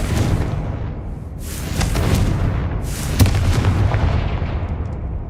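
Confringo fire spell explosions in the video game Hogwarts Legacy, a series of deep booming blasts with crackling bursts, one sharp impact near the middle, loud and rumbling throughout.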